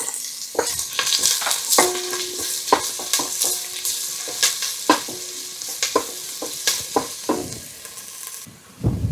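Onion frying in a pan with curry leaves, ginger and green chillies, loud steady sizzling broken by repeated scraping clacks of a spoon stirring against the pan, no voices.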